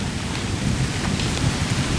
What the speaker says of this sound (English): You can kind of hear the storm.